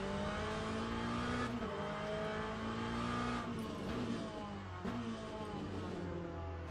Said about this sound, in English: Now here come the hypercars.